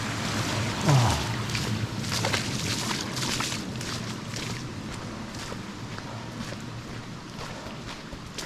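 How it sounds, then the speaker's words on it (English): Feet wade across a river on a trail run, splashing and churning water in a steady wash of broadband noise with wind, and one brief voice exclaims near the start. "Across the river we go."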